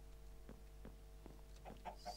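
Soft clucking of chickens in the video game Minecraft, a handful of short, quiet clucks in loose succession against a faint steady hum, with no talking.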